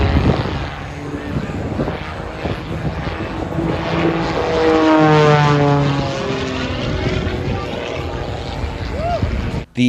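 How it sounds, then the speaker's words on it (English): Propeller biplanes roar low over the water while stunting, a loud steady engine drone that swells and fades, with boat noise beneath and a voice talking throughout. "there's also excitement in the air as biplanes soar and fall and fly and twist and hurl"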